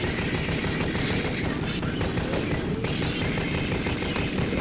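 Rapid automatic gunfire from the video game Alien Swarm, a dense unbroken stream of loud shots with constant clatter and impacts running for the whole stretch.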